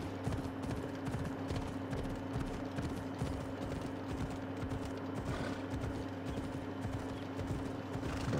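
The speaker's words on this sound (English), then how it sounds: "No use in sticking to roads, especially when we have this kind of a horse." Galloping horse hooves in Assassin's Creed Odyssey, a steady rapid clip-clop rhythm that runs throughout, close and even, over a low sustained game-ambience drone, with no talking.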